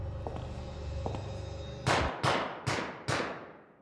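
Four sharp gunshots ring out in quick succession, each loud crack trailing a short echo, after a low, quiet background.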